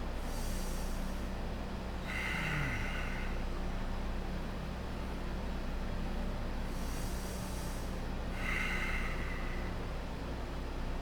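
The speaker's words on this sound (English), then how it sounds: "Take some deep breaths into your hips." Two slow, deep breaths during a hip stretch in a workout, each a long airy inhale and exhale, close to the mic over a steady background hiss.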